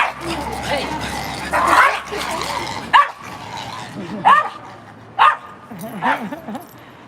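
A dog barks in short, sharp bursts on a New York street, several loud yips spaced a second or so apart amid city background noise, with someone talking over it.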